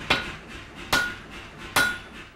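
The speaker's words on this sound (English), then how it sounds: "It's called forging, the hammering, bending, shaping, and cutting that form the backbone of blacksmithing." A blacksmith hammers hot, orange steel while forging. Three loud, ringing metal strikes land at an even, unhurried pace, close by, with no talk.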